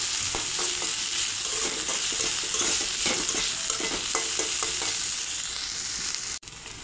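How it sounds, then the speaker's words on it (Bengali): Chopped onion and green chili fry in a pan with a loud, continuous sizzle broken by repeated scraping stirs, until the sound cuts off abruptly near the end. "পেঁয়াজ কুচি, কাঁচামরিচ কুচি একটু ভেজে নেব।"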